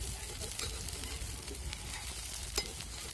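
Pumpkin dhapate flatbread roasting in an oiled pan, giving a soft, steady sizzle close by with faint crackles and one brief louder pop.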